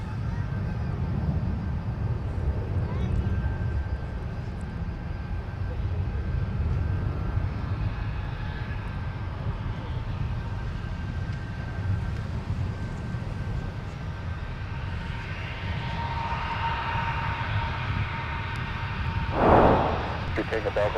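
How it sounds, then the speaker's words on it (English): An ex-EVA Air, 1993-built Boeing 747-400 touches down on runway 12 right at Minneapolis–St. Paul airport with a continuous low jet-engine roar at a distance, swelling briefly toward the end. "Touching down from Louisville, the ex-EVA Air 1993 built 747-400 with a big top."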